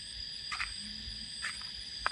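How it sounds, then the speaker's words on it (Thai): Frogs croaking at night, a few short croaks spaced about a second apart over a steady high insect drone, moderately near and fairly faint. "ได้ยินเสียงกบเสียงเขียดละครับมา"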